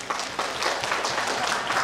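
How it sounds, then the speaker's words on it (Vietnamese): A crowd at a Lunar New Year office gathering in Vietnam gives a round of applause, many hands clapping in a fairly even burst that fills the short moment, with no voices. "tặng cho chúng ta một tràng pháo tay đi ạ."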